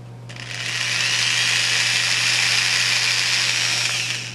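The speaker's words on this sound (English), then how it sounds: "you just drill a small hole." A power drill bores a small hole in wood for a homemade tripod arm, one steady high whine that starts abruptly, holds for about four seconds and then winds down, close and loud, with no talk.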